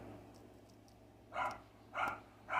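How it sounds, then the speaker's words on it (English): A dog barks three times in evenly spaced, fairly faint bursts, somewhat distant, over a low steady indoor hum. "I'm ignoring my dog's barking at this point"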